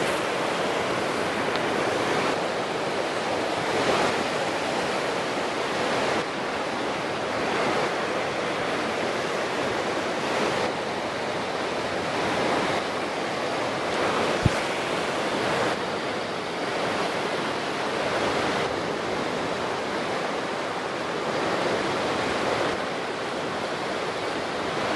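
Strongly flowing river water rushes continuously in a loud, even roar with slow swells, close by and with no voices.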